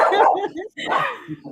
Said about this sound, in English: Interesting how chihuahuas are all bark.